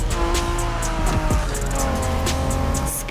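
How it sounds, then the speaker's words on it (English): A Honda NSX, a 1990s Japanese sports car, drives in The Crew Motorfest, its engine a steady close drone with a couple of quick rising and falling revs as it shifts. "Are you familiar with the Honda you're driving?"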